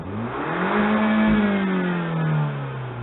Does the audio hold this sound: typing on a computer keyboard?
no